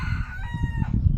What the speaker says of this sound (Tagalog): Nakabati kas manok.